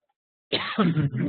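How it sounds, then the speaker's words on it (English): A short burst of harsh coughing and throat noises, close and fairly loud, running for under a second after silence. "I'm about to have a little coughing fit."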